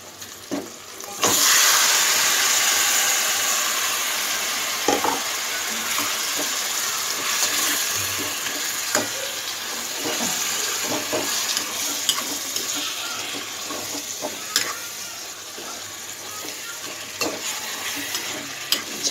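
Chicken pieces fry loudly in a pan with onions and green chillies, a dense continuous sizzle punctuated by repeated clacks and scrapes of stirring.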